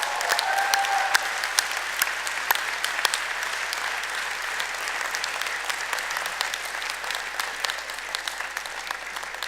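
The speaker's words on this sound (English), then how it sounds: "thank them with a mighty cheer and a round of applause" Graduation ceremony crowd applauding in a large hall, a dense continuous wash of clapping with a brief whistle or cheer early on, steady and sustained throughout.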